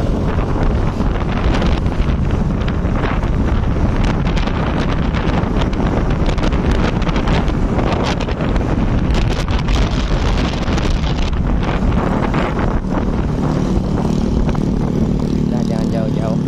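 Loud, continuous Honda motorcycle engine with heavy wind buffeting the microphone, the revving drone running unbroken throughout while someone rides.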